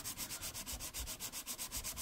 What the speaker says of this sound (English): I'm going to take my palette knife here. run it over some sandpaper.